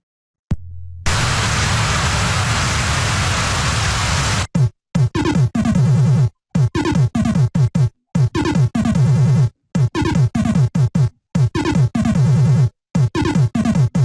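Acorn Electron 8-bit home computer playing a full-screen video demo with sound: a loud burst of harsh noise for several seconds, then choppy, rhythmic bursts of gritty synthesized audio cut by short silences.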